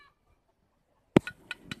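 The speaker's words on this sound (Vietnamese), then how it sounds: "Cận cảnh con gà đang bắt mồi tươi nhá." Chickens pecking and foraging for fresh food in a quiet countryside yard, with a few short close clucks and scratchy calls arriving in a quick burst after a near-silent start.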